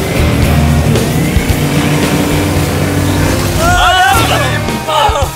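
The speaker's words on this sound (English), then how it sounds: "Oh, they're doing donuts in the water. They're making a whirlpool." A motorboat engine drones steadily and loudly as the boat spins in tight circles on the water, with excited voices shouting and laughing over it near the end.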